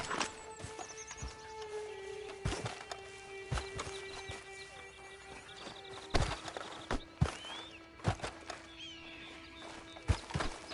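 Horse hooves clip-clop in Red Dead Redemption 2, a quiet, uneven series of hoof strikes with occasional louder knocks over soft game ambience.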